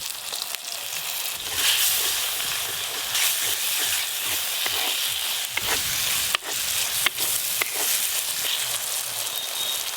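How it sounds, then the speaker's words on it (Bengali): Ground cumin, coriander, chilli powder, turmeric and salt sizzle in a pan with a splash of water, a steady broad hiss broken by scraping stirs, close and fairly loud with no talk. "অল্প একটু জল দিয়ে মশলাটা ভালো করে কষে নেব।"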